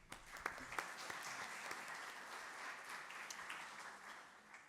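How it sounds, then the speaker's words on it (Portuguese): An audience at a Portuguese conference session applauds, with a steady round of clapping from a seated crowd that is moderately distant and somewhat faint, rising briefly at the start then holding even. "E mais uma salva de palmas"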